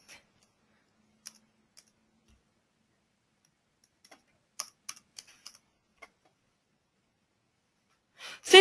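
A few separate keystrokes on a computer keyboard as coordinates go into structural analysis software, sparse close clicks with a short burst near the middle and a louder rustle at the end.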